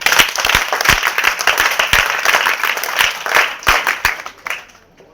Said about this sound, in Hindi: हाथों पर ताली बजाएं।